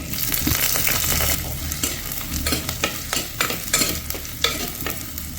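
Green chillies and small shallots fry in coconut oil in a clay pot for a Kerala-style mackerel curry, with a dense, close crackle at first that eases into lighter sizzling broken by repeated stirring scrapes.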